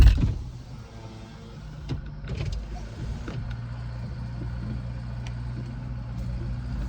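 A Toyota's electric power window motor hums steadily as the glass winds down inside the car, with a low idling engine underneath and a few faint clicks.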